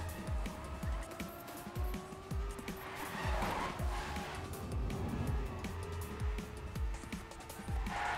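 Race cars in a racing video game drift with squealing tires and rising, falling engine tones, plus rhythmic low thumps under a continuous moderate mix.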